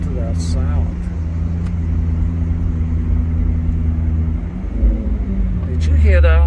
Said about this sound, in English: let me give you a treat here so you can hear what this car sounds like